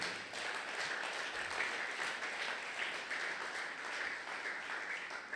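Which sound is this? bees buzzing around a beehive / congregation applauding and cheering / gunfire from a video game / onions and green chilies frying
congregation applauding and cheering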